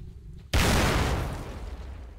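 An explosion in the STALKER video game bursts in suddenly after a brief quiet moment, a loud broadband boom that rolls off gradually over the next second and a half.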